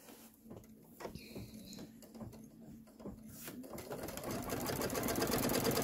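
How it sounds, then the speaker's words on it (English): An embroidery sewing machine runs a basting stitch tack-down, a fast even mechanical patter close by, starting in short bursts and building into continuous stitching. "Step 2C is the basting stitch tack down."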